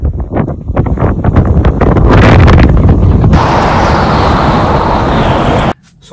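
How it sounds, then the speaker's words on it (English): Loud, roaring wind of 30 to 50 km/h buffets the microphone in heavy gusts while ice fishing on Lake Simcoe, growing stronger and steadier before cutting off abruptly near the end. "It's supposed to be super windy today."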